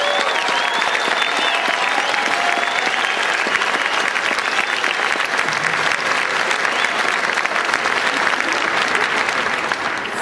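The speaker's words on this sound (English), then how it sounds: "Let's give them another big round of applause." Large commencement audience applauding the graduating class of 2010 at the South Dakota School of Mines spring ceremony, a steady, dense roar of clapping that holds at full strength for the whole stretch without letting up.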